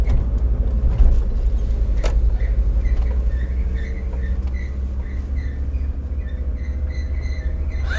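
An overheated front right brake on a Kia gives off a grinding, scraping noise beneath a steady low engine and road rumble, recorded close with faint intermittent squeaks.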